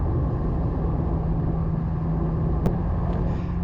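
A Fiat 124 Spider cruises along a country road, giving a steady close engine drone and road rumble with a faint brief click near the end and no speech.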